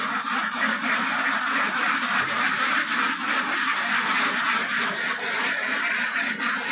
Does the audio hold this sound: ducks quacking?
yes